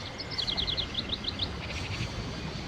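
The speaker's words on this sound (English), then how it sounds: "All these birds in a station." Small birds chirp in a rapid run of high, bright tweets inside a train station in the adventure game Syberia, clear over a low steady ambient hum, then fading to softer calls.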